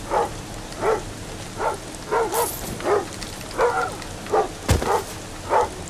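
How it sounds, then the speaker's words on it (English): Guard dogs in the stealth game Thief bark repeatedly in a steady rhythm, about ten loud, close woofs spaced evenly, over a constant rain-like hiss with one sharp clatter midway. "Them dogs I hate so much."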